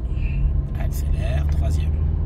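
Car engine in a manual-gearbox car during a driving lesson, a loud steady low rumble from inside the cabin as it accelerates, with an instructor talking over it.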